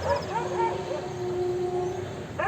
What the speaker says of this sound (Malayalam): ഗ്രൗണ്ടിൽ കുറേ നായ്ക്കൾ